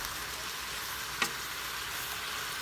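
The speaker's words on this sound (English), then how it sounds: "So we're going to stir this up." A lobster bisque in a pot gets stirred, giving a steady soft sizzle and bubbling hiss with one brief scrape of the spoon partway through, close and fairly quiet.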